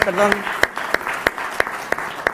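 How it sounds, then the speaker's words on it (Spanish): Sparse, evenly spaced claps ring out about three times a second in a conference round-table setting, loud and close, with a brief voice at the start. "No sabemos si el aplauso es para el que viene o el que se va"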